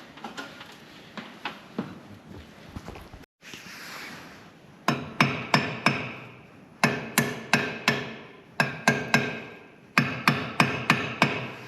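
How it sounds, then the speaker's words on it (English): Sharp metallic hammer strikes in quick bursts of three to five, ringing brightly, with a brief scraping pause between groups; close and loud, tapping a part into place during a Vogelsang macerator rebuild. "I might just give it a tap of a hammer or a light tap just to send it in."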